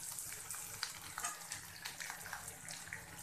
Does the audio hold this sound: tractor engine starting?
no